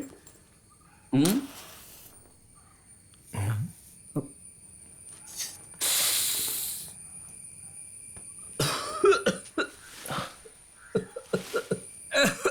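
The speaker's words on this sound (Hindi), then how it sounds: "पहला कश लगाने से खांसी होती है।" Several bursts of coughing and throat clearing after a first puff of smoke spread through the stretch, mixed with brief voices and other short noises nearby.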